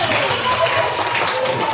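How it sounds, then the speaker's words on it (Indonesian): Participants in a classroom or training session clapping together, a short dense burst of applause mixed with voices and room noise. "Ya, tepuk tangan dulu."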